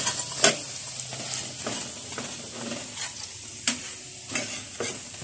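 Large golden-brown kikiam frying in hot cooking oil, a steady soft sizzle broken by sharp clicks and scrapes of stirring at irregular intervals, close and alone without talk.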